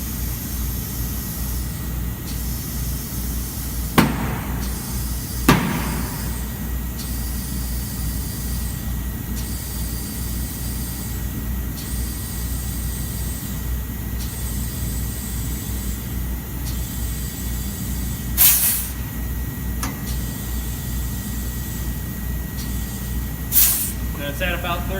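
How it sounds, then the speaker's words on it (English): A tire is aired up to about 32 PSI on a wheel, with a steady hiss of compressed air running throughout and several sharp pops as the bead seats, the loudest early on and a couple more later. "as I air it up, you're going to hear some popping and stuff, because that's the actual seating of the tire with the wheel"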